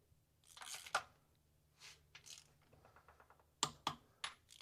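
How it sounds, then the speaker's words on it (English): A 3/8 torque wrench tightening bolts to 45 foot-pounds gives a few sharp, close clicks near the end, after some scattered rustling and handling noise. "We're going to take our 3/8 torque wrench here and we're going to torque this at 45 foot-pounds."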